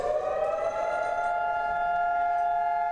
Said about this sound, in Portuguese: Ao toque da sirene, israelenses interromperam suas atividades e fizeram silêncio em memória dos mortos.